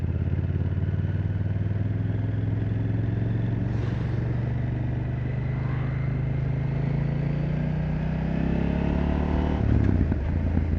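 A Husqvarna Svartpilen 801 motorcycle engine hums steadily at low revs, close by, rising slightly near the end as it pulls along slowly.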